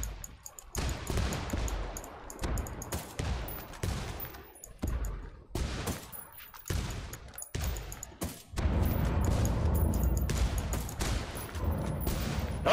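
Rapid gunfire bursts from a sniper rifle with a fast rate of fire in the Ghost Recon Wildlands video game, repeated volleys separated by short gaps, loud and close, growing denser toward the end.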